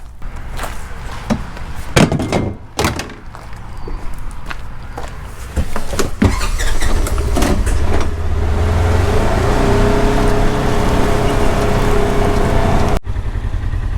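A farm vehicle engine runs near a scraper blade, with irregular knocks and thumps at first, then a loud steady engine drone that settles in and cuts off sharply near the end.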